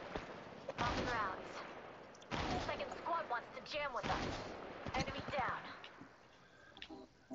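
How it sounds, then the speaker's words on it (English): Bursts of gunfire in the mobile battle royale shooter Apex Mobile crack in repeated volleys, largely mixed with someone talking over them. "Seriously, y'all are shooting at me?"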